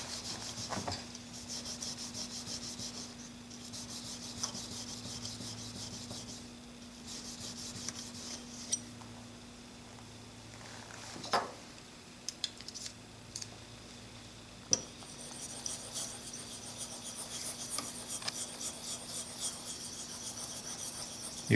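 A Blum plane blade is honed on a sharpening stone with steady rasping, rubbing strokes, close and moderately quiet, in a continuous rhythm with a few sharper clicks and scrapes midway.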